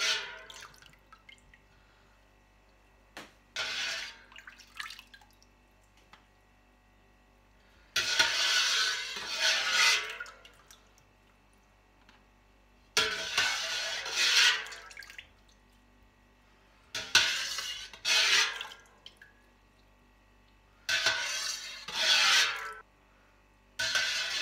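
Sheep's milk curd for feta cheese is scooped by hand, giving bursts of wet sloshing and dripping that come in separate strokes with quiet pauses between, close and without any talk.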